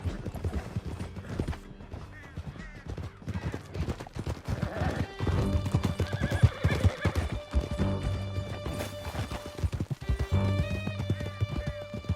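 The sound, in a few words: horses galloping in Red Dead Redemption 2 video game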